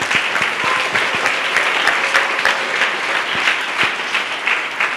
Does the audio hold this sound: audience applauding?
yes